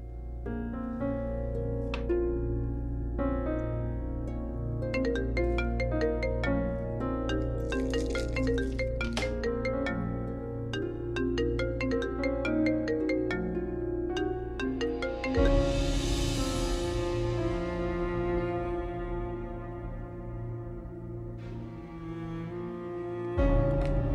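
A melodic phone ringtone plays continuously for a long stretch, a repeating electronic tune with bright chiming notes, moderately loud and with no one talking.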